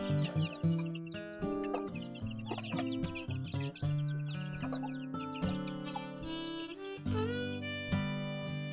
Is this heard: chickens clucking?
yes